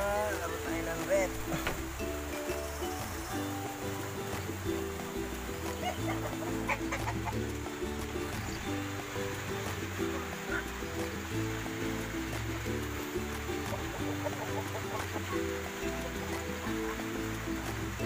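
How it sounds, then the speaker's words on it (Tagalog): Rhode Island Red hens clucking at an egg-laying coop, soft farmyard calls scattered through a steady rhythmic backing, with a person talking over them. "mga itlog ng ating mga Rhode Island Red."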